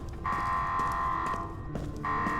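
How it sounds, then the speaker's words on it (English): Steady electronic alarm tone in the video game Kona II: Brume, a loud sustained buzz that cuts out briefly and resumes, repeating in long pulses. "Now, if only I could do something about this alarm."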